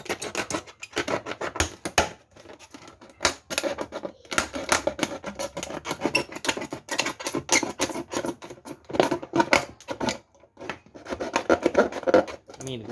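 Dense, uneven pattering and tapping, steady throughout with irregular bursts, close by and fairly loud, like rain drumming on a nearby surface.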